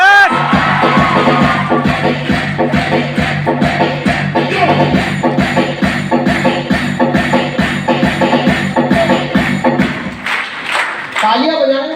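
An audience at a live stage show clapping in a fast, steady rhythm under a loud voice, with some crowd noise, before the beat breaks up near the end.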